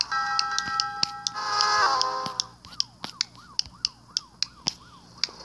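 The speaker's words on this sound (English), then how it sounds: "Oh, yeah, police car." A police car siren wails in the Crossy Road video game, a loud electronic warble that sweeps up, followed by a fast run of sharp, evenly spaced clicks with falling chirps.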